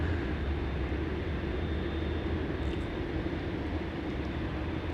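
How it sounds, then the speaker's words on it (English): Qantas Boeing 787 taxiing onto its bay at Sydney Airport, heard as a steady, moderately distant jet engine rumble and whine that holds evenly throughout with no voices. "The Qantas 787 coming in onto bay."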